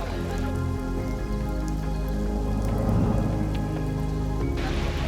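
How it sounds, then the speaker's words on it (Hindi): Heavy rain pours steadily and close at Sinhagad Fort (Kondhana) in India, a dense continuous hiss of drops with no voices. "बारिश जो रुकने का नाम नहीं लेती"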